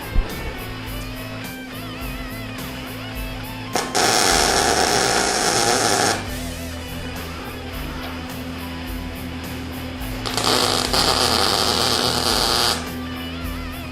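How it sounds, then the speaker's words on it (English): Tack welding steel on a water heater barbecue build: two bursts of loud crackling arc hiss, each lasting a few seconds, set against a steady machine hum and buzzing between the welds. "for now I'm just going to weld these up real quick"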